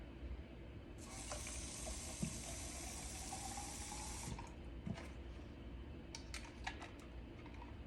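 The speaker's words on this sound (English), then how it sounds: "I'm going to fill the rest up with water." Water runs steadily from a tap into a container for a few seconds, a soft hissing rush over a low background hum, then stops, followed by small clinks.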